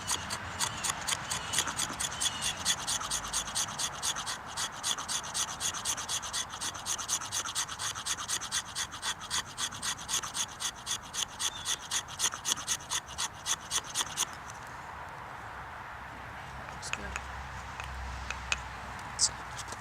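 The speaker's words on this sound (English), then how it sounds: "You should be able to scrape it just like fatwood." A fatwood-like resin stick is scraped with a blade in steady, rapid rasping strokes, close and fairly loud for about fourteen seconds before stopping, with only a few faint scrapes and handling noises after.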